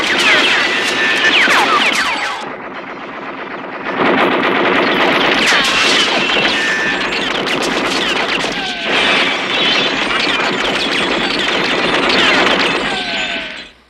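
An M60 machine gun rips into a police station in the film First Blood, firing loud, dense sustained bursts broken by two brief pauses, with no talking.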